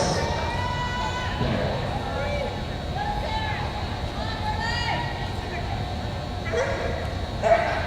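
Border collie Pete barks in repeated sharp yips while running an agility course at a crowded competition. The barking is mid-distance, carrying over a steady crowd hubbub and a commentator's talk.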